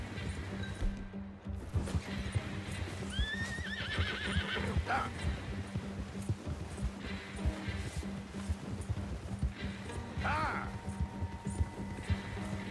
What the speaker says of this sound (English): All right, Horsey, let's go